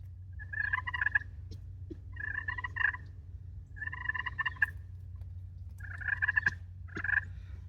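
A hand-worked turkey call imitates a feeding flock's clucks and soft purrs, five short rattling bursts spaced at an even pace with faint ticks between, alone over a quiet low hum.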